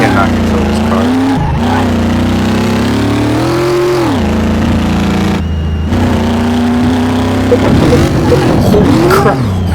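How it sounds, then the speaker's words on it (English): Ford Mustang engine revving on a test track in Car Mechanic Simulator, loud and close, pitch rising and falling through repeated revs with brief cutoffs, ending in a rougher burst. "we are on the test track now with the Mustang, so let's freaking go."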